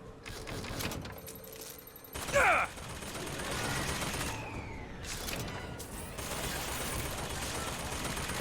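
Bursts of gunfire crackle in Bioshock Infinite, with rapid shots, a sharp metallic clatter and then continuing combat noise, fairly loud and close with no clear speech.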